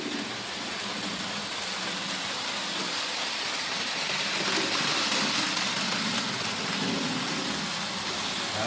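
A steady, noisy mechanical whir and rumble of a Rivarossi model train locomotive's small motor running at full power, needing lubrication, broadband and even throughout with no pauses.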